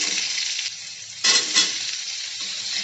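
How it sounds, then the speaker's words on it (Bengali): Cut potato and pumpkin frying in hot oil with tempered spices, a loud continuous sizzle that briefly flares up and crackles harder as the pieces are stirred. "এখন আমি এর মধ্যে দিয়ে দেবো কেটে রাখা আলু আর কুমড়ো।"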